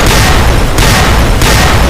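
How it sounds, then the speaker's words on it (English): Loud, dense dynamite explosions thrown by Powder Gangers in a video game: heavy booming blasts that merge into one continuous roar, with fresh bursts landing back to back and no quiet gaps. "I'm pretty sure all three of them just threw dynamite at me"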